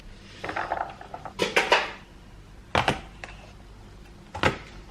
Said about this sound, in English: I'm currently about to chop up some green beans